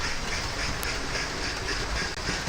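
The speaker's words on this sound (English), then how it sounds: "For an express train it's going really slow." Model express train running slowly on a layout, a faint steady rumble with soft rhythmic clicks of wheels over rail joints, with no talk.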